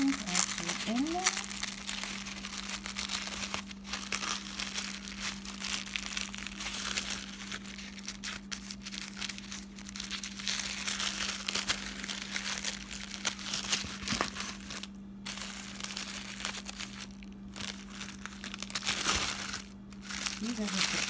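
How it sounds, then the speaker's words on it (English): Wrapping paper containing a set of runes crinkles and crackles steadily as it is handled and unwrapped, continuous rustling with a low steady hum beneath and a person talking over it. "the wrapping paper with the runes actually in there"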